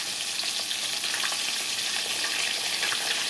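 Pollock fillets coated in almond flour fry in hot oil, a loud, even, unbroken sizzle with faint crackles and pops, heard up close with no voices.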